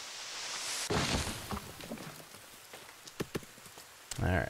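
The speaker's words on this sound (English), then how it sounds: "Raindrops keep falling on my head." Rain falls in The Forest, a survival video game, as a steady hiss across the whole stretch, with a few louder thuds and taps breaking through near the end.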